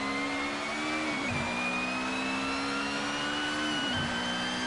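Racing car engine in Assetto Corsa, a steady high-pitched drone held near the rev limit with two brief dips for quick gear changes, loud and continuous with no talk.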